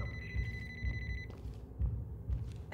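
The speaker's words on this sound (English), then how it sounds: "Hearing that cell phone." Cell phone ringing in the video game Ready or Not, a faint repeating electronic ring that stops partway through, under low rumbling and rhythmic thumping.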